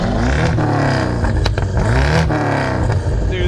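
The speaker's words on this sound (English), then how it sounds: "Let's hear a rev, buddy." Twin turbo truck engine with a catless downpipe revs hard, a loud, close, continuous roar that swells and falls through several throttle blips with a raspy exhaust edge.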